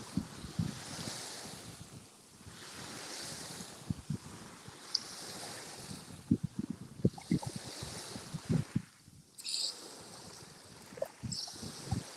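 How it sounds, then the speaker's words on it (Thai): Sea waves wash onto a beach in Spain, surging and receding in repeated swells with bursts of splash and gusty wind noise buffeting the microphone, close and fairly loud. "นี่นะคะก็เอาบรรยากาศริมทะเลนะคะ ที่จะเป็นมาฝากทุกคนนะคะ"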